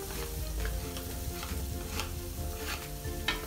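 Onion sizzles with a generous amount of garlic in a home-kitchen pan for an oxtail kare-kare, a close, continuous crackling fry with faint stirring scrapes and no talking.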